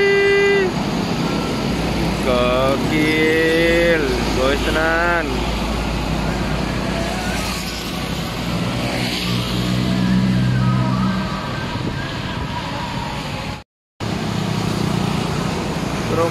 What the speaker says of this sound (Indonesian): Ude Quester disusul truk Hino tonton